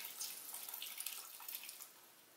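Tamarind water pours and splashes steadily into a pot of dry fish kulambu for a couple of seconds, a soft, bright trickle with no voices.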